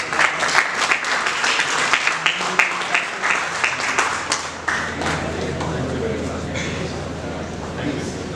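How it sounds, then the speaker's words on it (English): Audience applause at a BBA orientation event, dense, rapid clapping that swells and then thins, close and lively, with a voice speaking over it. "A huge round of applause."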